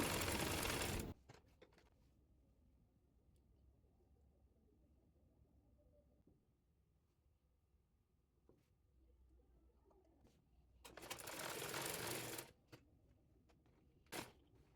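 A sewing machine stitches thin piping onto a kameez sleeve in short, loud bursts at the start and near the end, with a long quiet stretch of faint room noise between them.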